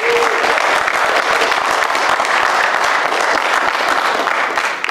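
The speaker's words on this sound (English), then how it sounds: "Please, round of applause." At a military graduation ceremony, an audience gives a steady round of applause, a thick wash of many hands clapping throughout with no talking on top.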